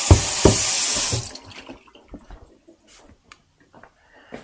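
Tap water runs strongly from a faucet for about a second while garden leaves are washed, then cuts off, leaving faint drips, handling sounds and small knocks in a quiet room.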